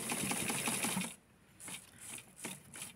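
A sewing machine stitching fabric for a fully lined Barbie coat runs in a steady rapid whir, stops, then restarts in several short close bursts.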